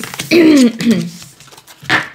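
A person clears their throat with a short, rough, voiced rasp, followed by a brief pause and a second quick throaty sound.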